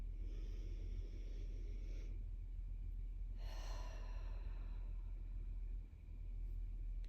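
A long, soft exhale during a guided breathing exercise in an EFT tapping session: faint, airy breath sounds come in two gentle waves over a low, steady background hum.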